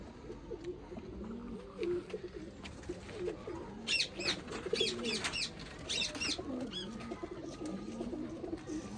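Pigeons coo in soft, repeated low rolls throughout, with a few higher bird chirps and calls scattered over a busy outdoor background.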